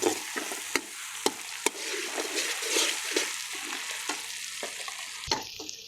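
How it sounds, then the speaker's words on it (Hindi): Potatoes tipped into masala frying in a kadhai and stirred, giving sharp metallic spoon knocks and scrapes over a steady close sizzle, with no talk. "अब ये मसाला भून चुके हैं, और अब हम इसमें आलू शामिल करते हैं।"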